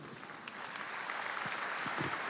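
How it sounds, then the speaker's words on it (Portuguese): Church congregation clapping for Adoniran, a continuous fairly distant patter of many hands swelling slightly, with no talk. "Uma salva de palmas para a Adoniran"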